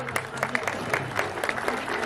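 An audience at a ceremony for disabled people claps steadily, a dense crowd of applause at moderate loudness.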